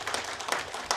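Audience applause at an award ceremony for a national folk song (minyo) competition final, a brief burst of clapping from a gathered crowd with a few sharper claps standing out.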